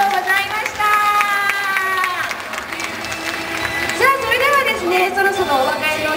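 Crowd applauding at a Chunichi Dragons fan event with the Doala mascot and cheerleaders, steady clapping and cheering filling the space, with voices and a loud tonal sound over the top.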